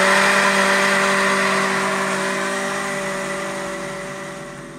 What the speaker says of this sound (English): Throw them in a blender, we're gonna puree them up